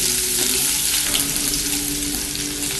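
Minced garlic lightly frying in oil and ghee in a pan, a dense, even, close sizzle throughout with no pauses.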